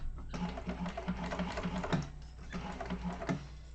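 A sewing machine runs close by in quick, steady needle stitching bursts, pausing briefly mid-way before starting again.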